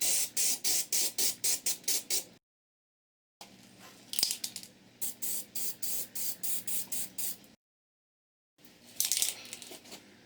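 A Rust-Oleum weld-through primer aerosol can, used twice before, sprays in rapid, evenly pulsed short bursts, pauses, repeats another run of bursts, then gives a few longer, rougher sprays, close and alone.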